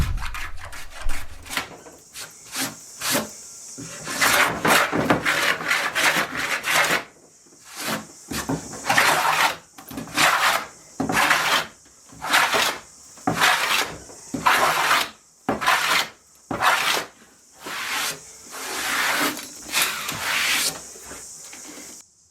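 A hand plane scrapes across a rotted shed door in a series of short, rhythmic rasping strokes, close by and separated by brief pauses.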